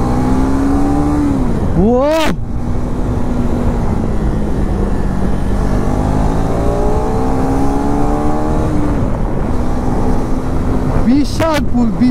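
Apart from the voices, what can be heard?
KTM Adventure 390 motorcycle accelerating in second gear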